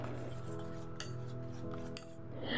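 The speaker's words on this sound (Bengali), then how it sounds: "রাবড়িটা দেওয়ার আগে আপনারা আরও একবার এটাকে এইভাবে নাড়াচাড়া করে নেবেন" Rabri, thickened milk for Shahi Tukra, is stirred in a metal pan, producing close scraping and rubbing of utensil against metal with a faint ringing tone and a couple of light clinks.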